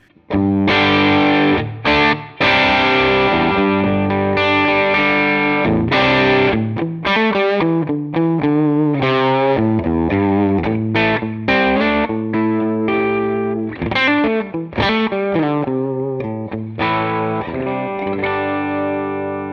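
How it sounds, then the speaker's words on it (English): Distorted electric guitar playing chords and riffs through a Line 6 Helix Essex A30 amp model, loud and steady with a crunchy, saturated tone and slight chorus shimmer. "So at these settings here, we have this sound as the Helix Essex A30."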